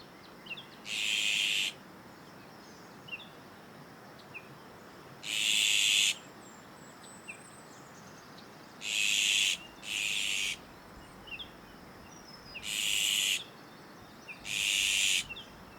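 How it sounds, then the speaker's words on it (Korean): Birds sing in a small urban forest beside a café in Sejong, with about six bright, high bursts of song, each roughly a second long, ringing out at intervals over a quiet background. "새들의 노랫소리밖에 안 들립니다"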